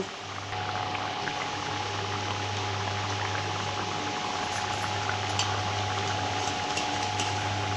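A curry gravy simmers in a pan as its liquid cooks down, giving a steady close bubbling hiss with a low constant hum beneath and no talking.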